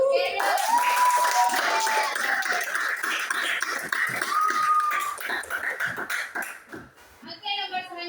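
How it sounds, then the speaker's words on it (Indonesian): Children clap in an elementary school classroom in Ambon, a scattered round of sharp claps under excited children's voices and calls, thinning out toward the end. "tepuk tangan untuk Berbi."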